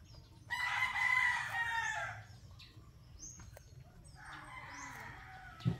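A rooster crows nearby on Camotes Island in the Philippines, with chickens clucking faintly under it and a second, softer crow following in a quiet rural setting.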